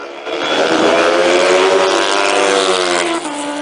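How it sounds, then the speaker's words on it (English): A speedway bike and a Suzuki superbike race past with a loud, close, high-revving engine scream that rises and holds for a few seconds with no talk. "A speedway bike up against a Suzuki superbike."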